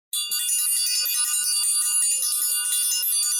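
A bright, sustained bell tone starts abruptly and rings on steadily with a shimmering high ring, loud and close.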